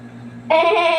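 A single loud, nasal bleat of a goat begins midway, wavering and sustained after a quieter lead-in with a low steady hum.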